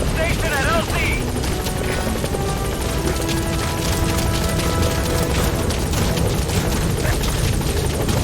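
Pequod helicopter arriving at a landing zone in Metal Gear Solid V, a steady heavy rotor thump and turbine roar filling the scene, loud and continuous, with radio voice chatter over it.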